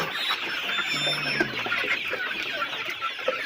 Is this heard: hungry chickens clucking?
yes